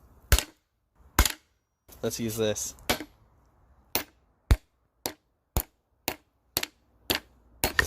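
A larger, heavier hammer smashes objects such as plastic, an aluminum pan and cardboard: about ten sharp, loud, isolated blows at a steady pace, with a short burst of speech early on.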